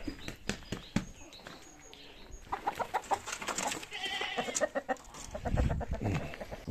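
A hen clucks and squawks in agitated bursts close by after a hawk attack, with scuffling and rustling movement as she is caught.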